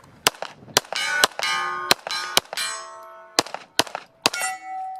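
Sharp pistol shots from an SPS Pantera during a timed shooting match string, about a dozen close cracks in an uneven rhythm, each followed by ringing metallic clangs of steel targets.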